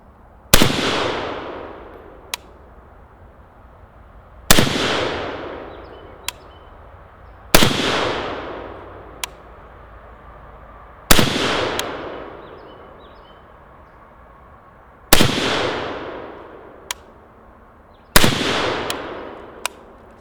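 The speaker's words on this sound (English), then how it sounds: "So I think that was 5 shots" Five loud, sharp gunshots from a Zastava M92 PAP AK short-barreled rifle fired outdoors at a target, spaced a few seconds apart, each with a long echoing decay and some faint distant clicks between.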